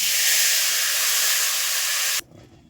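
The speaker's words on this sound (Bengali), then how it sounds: "ইলিশ মাছের তেলটা প্রথমে দিয়ে দিচ্ছি।" Hilsa fish oil hisses and sizzles loudly as it hits a hot pan for a Bengali taro-leaf (kochu shak) recipe, a steady bright spray of sizzle lasting about two seconds before cutting off abruptly, with no talk.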